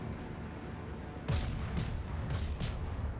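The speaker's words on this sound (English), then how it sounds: "See, now I'm firing a lot faster." Warship guns firing in the World of Warships game, several heavy booms in quick succession over a continuous rumbling background, moderately loud with no talking.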